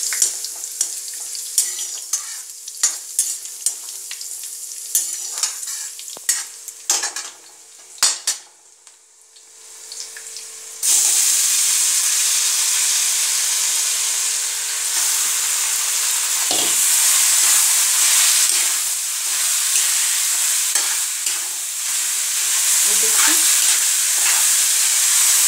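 Grated potatoes go into a pan with fried green chillies for a potato khichdi. Scattered scrapes and clatter give way to a loud, steady sizzle as they fry, with occasional stirring knocks.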